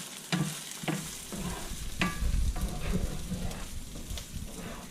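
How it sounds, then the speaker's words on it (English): Chorizo sausage fries in a hot cast iron pan, sizzling steadily throughout. Close, clattering scrapes and taps of stirring sound over the fat crackling. "You see it's starting to make the fat and everything in the bottom of the pan from cooking it."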